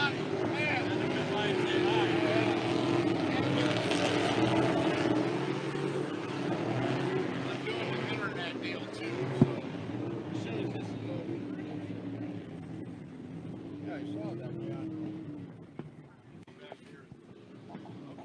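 Cracker box race boats running four laps at slow speed at the Long Beach Sprint Nationals, engines burbling and popping in a steady rough drone, with talk over it and a brief sharp bang midway.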